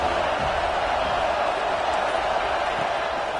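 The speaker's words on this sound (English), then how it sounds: "This crowd ready to make its presence known." A college football stadium crowd produces a dense, steady roar that fills the whole stretch at an even level, with no single voice standing out.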